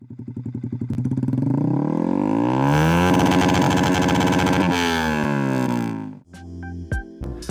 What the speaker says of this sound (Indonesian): Kalau 150cc pakai knalpot racing, ya suaranya ya begini nih.